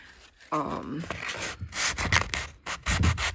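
Hand sanding with 180 grit sandpaper on a painted wooden dresser being refinished, heard as a run of close, loud, rhythmic rasping strokes after a short quiet start.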